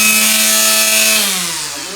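A DeWalt FlexVolt brushless string trimmer runs with a loud, steady high-pitched motor whine that eases slightly in pitch and level toward the end.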